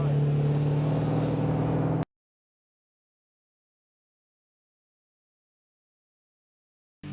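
A car engine drones steadily with a low, even hum for about two seconds, then cuts off abruptly into silence.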